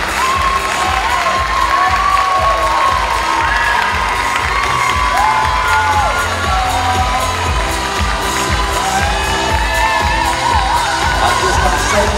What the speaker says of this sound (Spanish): Un fuerte aplauso para nuestras bellas concursantes.